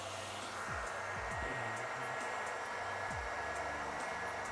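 A blow dryer runs at a steady, loud rushing roar throughout, heard alone with a few faint low thumps underneath.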